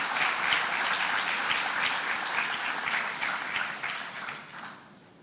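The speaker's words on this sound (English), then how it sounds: "Once more, give them a round of applause," An audience at a community awards ceremony gives a round of applause, a dense, even wash of many hands clapping, fairly loud at first and fading away toward the end.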